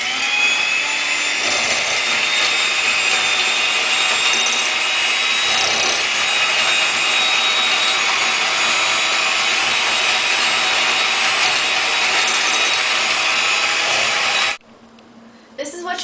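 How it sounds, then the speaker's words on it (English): A mixer blends crushed vanilla wafer cookies into cake batter with a loud, continuous whirring grind that runs steadily and then cuts off near the end. "you just dump them into the batter. And continue to mix."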